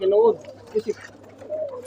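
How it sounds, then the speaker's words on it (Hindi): A female pigeon coos in a few short, rounded bursts close to the mic, with a louder opening phrase and two quick softer coos that follow, over a low steady hum. "ये देखो बहुत अच्छी कबूतरी है"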